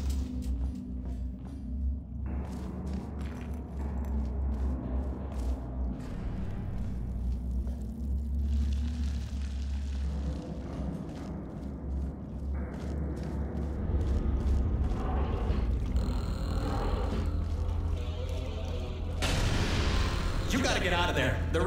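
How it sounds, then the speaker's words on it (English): Explosions and falling rocks in a video game, with deep rolling rumbles, heavy booms and scattered clattering debris that build louder toward the end, while a voice speaks over much of it. "The place is exploding. Rocks are falling everywhere"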